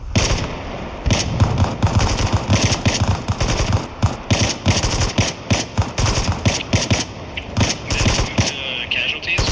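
Automatic gunfire in the Bellum video game: loud, rapid bursts of rifle and machine-gun shots come in dense, irregular volleys one after another, with brief gaps between bursts.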